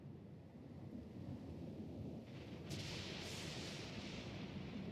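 A rumbling storm with thunder in the fantasy video game Pillars of Eternity, heavy low roar and wash of rain filling the scene steadily, with a rising crackle near the end.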